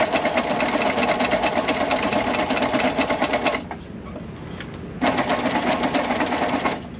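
A sewing machine runs aboard a sailboat, whirring steadily and loudly for several seconds, pausing briefly, then starting up again at the same steady rhythmic pace until it stops near the end.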